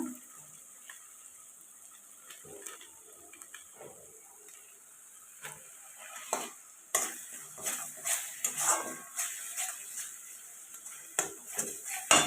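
Crab curry with turmeric, chili powder and salt being stirred and sautéed in a pan, a soft sizzle under repeated scraping and clinking of the spoon against the pan, growing busier and more rhythmic toward the end.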